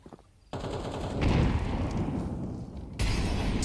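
Rapid automatic gunfire in the video game Counter-Strike 2 during a competitive match, loud, dense bursts of shots that fill the clip, breaking off briefly before resuming.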